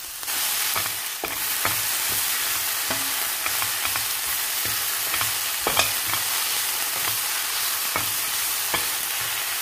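Broccoli, cauliflower and onion stir-frying over high heat for chicken and shrimp noodles, a steady loud sizzle broken by repeated sharp clicks and scrapes of a utensil against the pan, with no talking.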